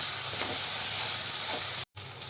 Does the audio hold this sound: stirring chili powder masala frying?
yes